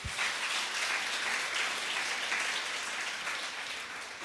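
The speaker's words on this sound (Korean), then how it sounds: "박수!" A congregation at a Friday church worship service breaks into steady, dense applause that stays even and fades slightly toward the end.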